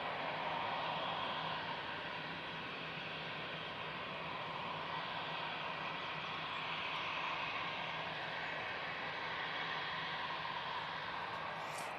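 Airplane departing from Manchester Airport, a sustained broadband engine roar heard from a distance, steady and even throughout with no voices.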